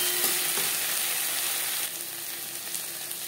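Eggplant sizzles and fries steadily in a pan with ginger paste, green chilli paste and spices being stirred in, a continuous close sizzle that eases slightly partway through, with no talking.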